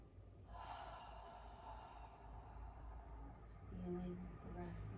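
Slow, deep breathing held through a gentle yoga pose: soft, drawn-out inhales and exhales, quiet and close, with no talking.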